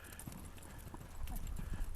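Horse hooves loping around an arena at a steady three-beat rhythm, muffled thuds in soft footing, with a rider's voice coaching over the gait.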